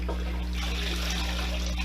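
Water trickling and dribbling off freshly rinsed cooking greens as they drain, a steady, fairly loud wet patter continuing throughout with no voices.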